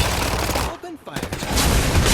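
Automatic and shotgun gunfire in a shooter video game, a loud dense barrage that drops out briefly in the middle, then resumes at full intensity until the end.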